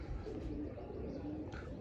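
A Lalsira pigeon coos softly in a quiet indoor spot, low repeated murmuring calls close by and faint, with a slight rustle near the end.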